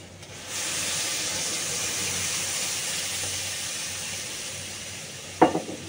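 Water poured into a hot pan of fried okra with potato sets off a sudden loud sizzle that hisses steadily and slowly fades, ending with a short clatter.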